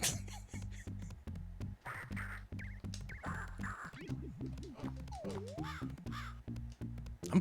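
A video game chicken in Garfield: Caught in the Act gives repeated harsh, raspy squawks in a choppy rhythm, loud and close, one after another for several seconds with no talking.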